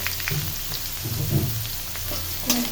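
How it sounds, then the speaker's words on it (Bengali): Ridge gourd pieces hitting browned frying onions in a pan, giving a steady sizzle with soft bubbling crackles and a few light stirring knocks. "এখন আমি ঝিঙাটা দিয়ে দিব"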